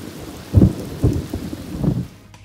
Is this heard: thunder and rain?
yes